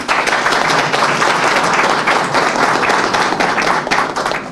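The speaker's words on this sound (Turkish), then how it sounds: "kendinize güçlü bir alkış istiyorum" Sustained, dense applause from a large crowd at a political party gathering in Bolu, Turkey, steady and loud throughout, with many hands clapping at once.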